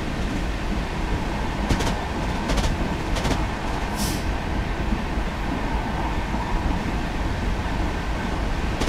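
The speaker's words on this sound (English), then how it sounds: "So it's a six-axle diesel-electric freight locomotive developed in part from the Class 59 for use on the railways of the UK." A Class 66 six-axle diesel-electric freight locomotive runs in Train Simulator 2017, its engine drone and rolling rumble continuous and steady, with a few faint clanks and a short hiss along the way.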